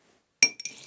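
Ice cubes drop into cocktail glasses with a sharp glassy clink, then a second and third clatter, followed by a faint rattling tail.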